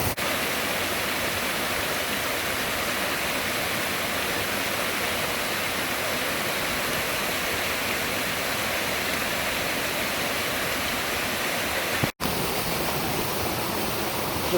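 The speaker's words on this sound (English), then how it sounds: "Waterfall all up there, further up top." Zealand Falls, a waterfall in the White Mountains, roars as a steady, dense wash of falling water that fills the whole clip, loud and close, with a brief cut near the end and no voices.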